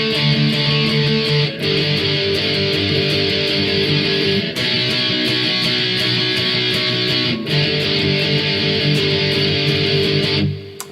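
A distorted electric guitar plays the chorus of a song in dense, sustained power-chord strumming. Short breaks fall between phrases, and the playing stops abruptly near the end.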